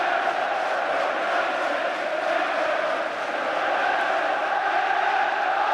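A football crowd at the 1990 FA Cup Final between Crystal Palace and Manchester United roars continuously, a dense, loud stadium wash of cheering and shouting that holds steady throughout.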